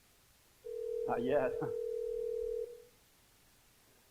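A telephone tone sounds as the caller rings a real estate listing agent's office: one steady tone lasting about two seconds, clear and close, with a brief burst of speech over its start.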